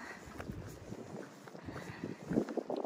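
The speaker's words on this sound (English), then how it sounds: "Oh, so much wind." Strong, gusty wind sweeps across an open hiking trail, buffeting the microphone with a continuous low roar and rumble that swells and surges near the end.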